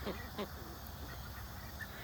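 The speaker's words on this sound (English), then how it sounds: "These are Indian runner ducks that the neighbor gave us." A couple of short, faint Indian runner duck quacks sound close together at the start, with a few softer calls afterward over a quiet outdoor background.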